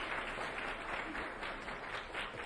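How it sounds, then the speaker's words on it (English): Steady round of applause from an audience at a business pitch competition, a continuous, somewhat distant wash of clapping welcoming a contestant, with no one speaking. "give him a round of applause"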